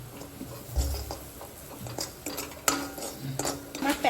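Semolina going into hot ghee in a small pan, heard as close spoon clinks and scrapes against the metal with a light patter, irregular strokes under a soft background hiss, no talking.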